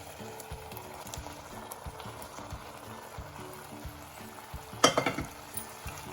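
Paneer cubes tipped into thick gravy in a kadhai and stirred, with a steady low simmering sizzle, repeated scraping and clinking strokes, and a louder cluster of clatters near the end.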